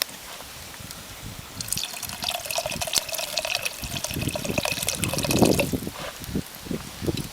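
White wine poured into a cooking pot that already holds butter, garlic and water: a splashing, trickling pour that builds over several seconds, heard close and alone without talk.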